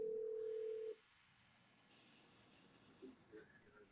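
Steady telephone dial tone for about a second on a line being called from a district court, then it cuts to a quiet line with faint soft blips.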